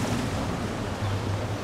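Water splashes continuously from a water feature along the riverwalk in Estes Park, Colorado, a steady close rushing wash with no talk over it.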